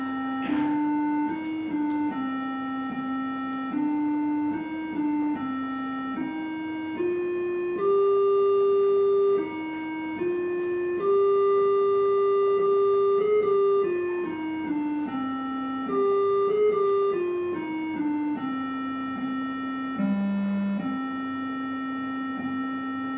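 A thin, square-edged ZX Spectrum computer beeper plays a slow melody note by note, each tone sustained and pure, alone without accompaniment.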